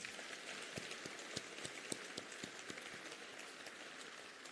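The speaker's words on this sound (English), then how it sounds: "Let's give President Mbeki a big round of applause" An audience at an ANC KwaZulu-Natal business gathering applauds President Thabo Mbeki with a faint, steady wash of clapping and a few sharper claps standing out, with no talking.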